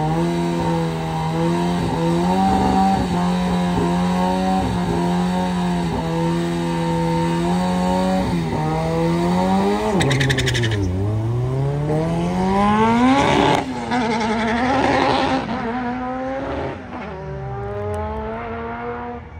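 A street-tire drag car on the strip at Bandimere Speedway launches hard, its engine climbing steadily through the gears with shifts and a roaring pull, then fades as the car runs away into the distance.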